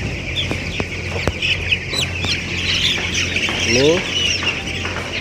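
Two-week-old broiler chickens recently vaccinated against Newcastle disease squawk and cluck steadily in a close, crowded chorus, with someone talking over the birds.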